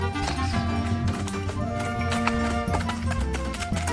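Hooves of a horse clip-clop in a steady run of close, sharp knocks, heard under loud music with string-like tones in a comedic Brazilian countryside scene.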